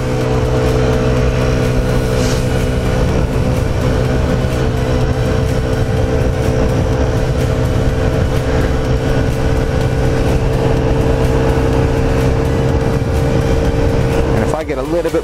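A stock Honda Ruckus scooter engine drones steadily while being ridden around Lacey, Washington, a loud constant hum mixed with wind rush that lasts throughout.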